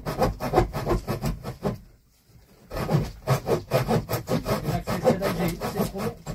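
A large hand saw cuts through wood in steady back-and-forth strokes. The rasping rhythm is close and loud, breaks off briefly, then carries on without a pause.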